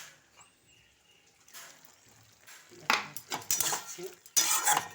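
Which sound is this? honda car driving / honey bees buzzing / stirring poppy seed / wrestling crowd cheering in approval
stirring poppy seed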